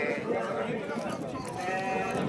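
Young male goat kids bleat at a livestock market, several lively nearby cries rising and wavering over a busy background while people talk throughout.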